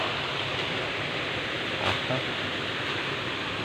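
A small waterfall on the lower slopes of a mountain trail on Bundok Peninsula gives off a steady, soft wash of falling water that stays even throughout, with no voices heard.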